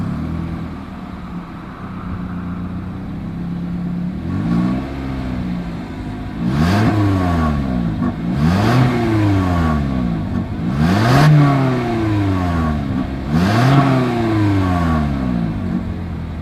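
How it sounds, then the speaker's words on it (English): A 2021 Toyota Corolla SE with dual-tip exhaust idles and then revs repeatedly, about four loud rising-and-falling engine sweeps in a row after a steady idle, heard up close without talk. "As always, here is that exhaust clip."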